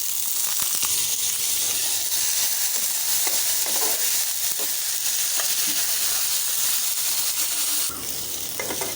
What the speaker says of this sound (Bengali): আলুটা একটু ভাজা হয়ে গেছে